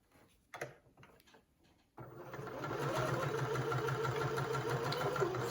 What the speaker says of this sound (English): your needle's quite happy to sew over the top of them.